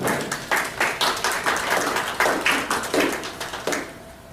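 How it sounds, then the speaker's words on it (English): Audience applause for fabulous authors at a WriteOn writers' event at The Timbers, a few people clapping in an uneven rhythm of bursts that fade toward the end. "another round of applause for the fabulous authors"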